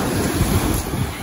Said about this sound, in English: Here we are at the beach.